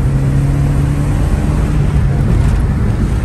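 An old car engine runs at a steady, loud idle, a low continuous rumble with an even hum and no other sounds.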